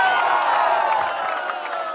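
A crowd at a Prashant Kishor public rally in Bihpur, Bhagalpur district, claps in a dense, steady burst that fades a little toward the end.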